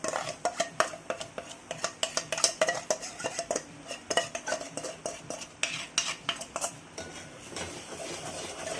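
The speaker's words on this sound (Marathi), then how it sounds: "आपण छानपैकी मिक्स करून घ्यायचा आहे, परतून घ्यायचा आहे." Ground onion masala stirred into a pot of Maharashtrian-style chicken curry, with a rapid run of close metal spoon scrapes and clanks against the pot over a faint sizzle, and no voices.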